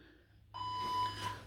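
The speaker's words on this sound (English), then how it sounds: "Right, I'm going to do the timer again." An electronic timer beep starting an exercise countdown, a single steady tone that switches on suddenly and holds for about a second, clear and fairly close.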